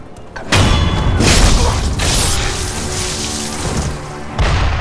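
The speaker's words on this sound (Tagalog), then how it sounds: "May kanyon!" A cannon booms in the video game Sekiro, with a loud heavy blast followed by a rumbling, clattering tail and a second strong hit near the end.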